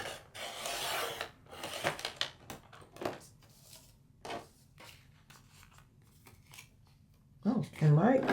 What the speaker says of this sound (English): I know I just closed the envelope and now I'm trimming off some of it